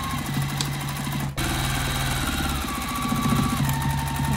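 Sewing machine back stitching a fabric patch onto jeans turned inside out, a steady rapid mechanical whirr with a brief drop near the middle, then running on continuously and close.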